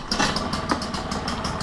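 An outboard motor running in a trash can of water, a loud close rapid engine putter with a quick throttle blip near the start.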